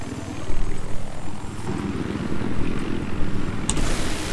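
A military helicopter in Battlefield 4 on the Paracel Storm map thrums steadily with a throbbing rotor and engine drone, loud and close throughout, with faint game effects and a brief sharp crack near the end.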